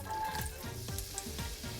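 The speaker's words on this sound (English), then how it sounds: "First thing we're gonna do is we're gonna add in our chopped onions and wait for that sizzle" Chopped onions sizzle in hot oil in a pan, a steady close crackling hiss with scattered pops and faint stirring scrapes, no voices.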